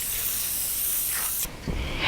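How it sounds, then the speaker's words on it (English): Aerosol spray can hissing steadily for about a second and a half as it coats a window shade for a blackout arch window project outdoors, then a brief pause and a short second burst. "Let's just go ahead and spray it."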